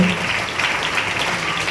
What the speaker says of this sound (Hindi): पेस्ट के लिए फिर से ताली लगा दीजिए आप लोग